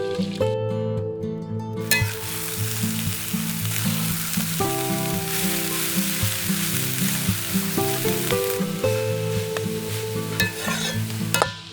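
Chopped banana stem tossed with coconut and salt sizzles in a pan while a spoon stirs it in repeated scraping strokes, over a steady frying hiss with faint tonal background music.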